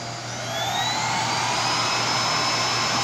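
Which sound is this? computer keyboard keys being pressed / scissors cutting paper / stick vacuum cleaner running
stick vacuum cleaner running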